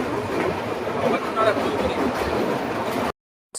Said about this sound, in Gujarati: સો ફાઇનલી આપણી ટ્રેન ચાલુ થઈ ગઈ છે.